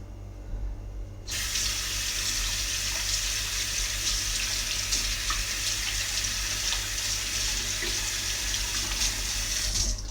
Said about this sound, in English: Now, to wash my hands.